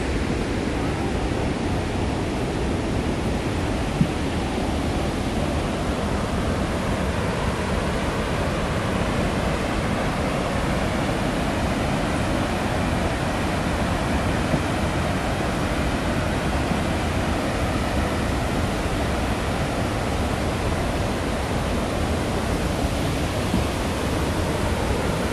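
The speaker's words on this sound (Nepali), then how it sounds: "हामी यहाँ ठुलो झरना रहेछ एक्रोनको" A big waterfall by a dam at Akron Metro Park, Ohio, roars in a constant, unbroken wash of falling water for the whole stretch, fairly loud and steady.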